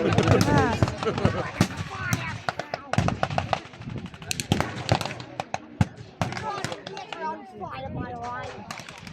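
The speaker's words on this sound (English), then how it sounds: "despite those large explosions" Battle reenactment at a wartime event in Yorkshire, with rapid bursts of gunfire, sharp bangs and booming blasts crackling densely throughout, while a commentator and other voices talk over the din.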